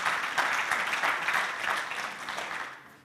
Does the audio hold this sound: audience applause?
yes